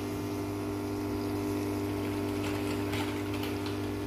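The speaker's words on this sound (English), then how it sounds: "And yes, water is coming now." Water flows through an ELISA plate washer, a steady pumping hum with a trickling, rushing wash over it and faint ticks, continuous and close.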